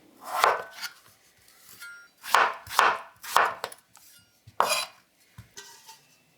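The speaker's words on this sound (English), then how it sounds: "Wash the vegetables and cut the potatoes up into small chunks." Potatoes being chopped into small chunks on a board, close knife strikes landing in short bursts of one to three with pauses between.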